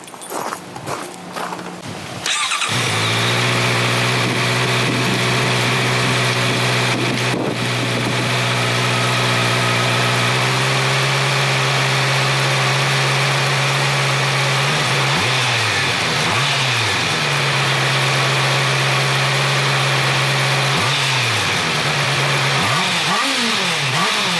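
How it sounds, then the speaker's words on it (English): A motorcycle engine running in gear on a stand during chain cleaning, a loud close steady drone with a few throttle changes that shift the pitch, after a brief start at the beginning. "start the bike. Let it run through. Put it in gear."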